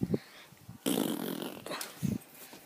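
A dog in a fenced yard growls and snorts in a few short bursts near the microphone, with a louder rustling stretch in the middle.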